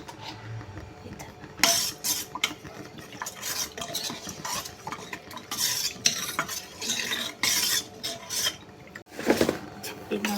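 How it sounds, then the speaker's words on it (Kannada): A spoon scrapes and swirls steadily around a pot, stirring a few spoonfuls of powder into water warming on the stove, with rhythmic clinks and rubbing strokes over faint kitchen background. "ನಾವು ಇದನ್ನೊಂದು 2-3 ಚಮಚ ಹಾಕ್ಕೊಂಡು ತಿರುಗಿಸ್ಕೊತೀನಿ ನೋಡ್ರಿ"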